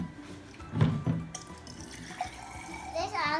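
Water poured into a container for a kid's penny-cleaning science experiment, a splashing, running stream with a voice and other chatter mixed in.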